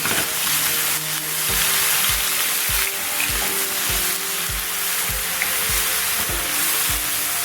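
Crushed garlic and ginger paste sizzles steadily in hot oil in a pan for a plantain fry, a constant loud hiss with soft rhythmic knocks as it is stirred.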